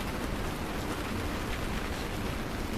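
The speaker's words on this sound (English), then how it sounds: "Listen to the shit weather. It's raining all day long." Steady rain falling on a tipi tent, a soft even hiss of drops that continues throughout, quiet and alone with no talk.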